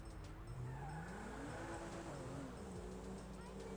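Engine sound of a car accelerating in the video game GTA 5, a steady rising drone with a faint tire-like hiss on top, constant and fairly loud throughout, with no talk over it.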